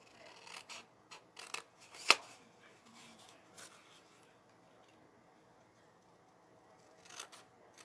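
Scissors snip through the tab of a handmade adhesive craft caddy in a few short, quiet cuts and rustles, with one sharp snap near the middle, followed by pauses.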